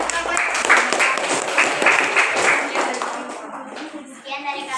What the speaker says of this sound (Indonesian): Kasih tepuk tangan buat teman kita yang komen pertama.